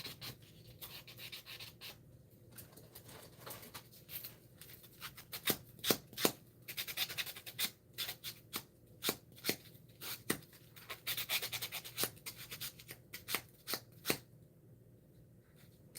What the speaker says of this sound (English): now I'm gonna go in and just buff it out, smooth it out